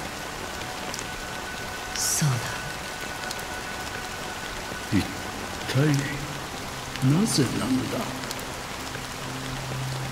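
Honkai Star Rail rainfall hisses continuously as a steady background wash while a voice speaks a couple of short lines over it.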